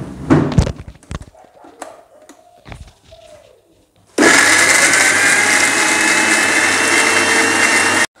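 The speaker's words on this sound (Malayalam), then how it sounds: "ഇതെല്ലാം കൂടി നമ്മൾ മിക്സിയുടെ ജാറിലേക്ക് ഇട്ടു. ഇനി ഇത് നമുക്കിതൊന്ന് അടിച്ചെടുക്കണം." Mixer grinder jar blending chilli powder, alfaham masala, salt and coconut oil for alfaham chicken marinade: after a few clinks and thuds of loading, a loud steady motor whir runs continuously for about four seconds, then cuts off.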